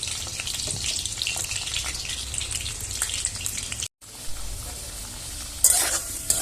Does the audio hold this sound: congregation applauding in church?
no